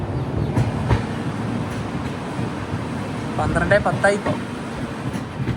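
Tourist train with a Vistadome coach arriving at Hasimara railway station in West Bengal, steady rumble and clatter of carriages with a few squealing metallic screeches near the end, a voice speaking briefly over it.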